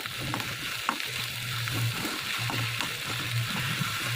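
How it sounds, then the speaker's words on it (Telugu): Mango pulihora mixture with turmeric frying on low heat, a continuous close sizzle with rhythmic scraping and stirring strokes recurring every second or so, no voices present. "సిమ్లో పెట్టుకొని ఫ్రై చేసుకోవాలి"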